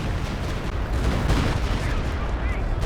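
Gunfire and explosions from a competitive strategy war game match, a dense continuous barrage of shots and booming blasts filling the whole moment, loud and layered with no clear breaks.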